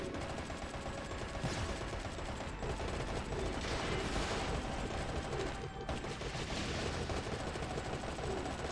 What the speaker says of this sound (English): Literally just shooting at it.